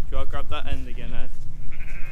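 Ewes and lambs bleat repeatedly and close by in a pen while sheep are handled, the wavering cries overlapping one another, with a person's voice speaking among the animals.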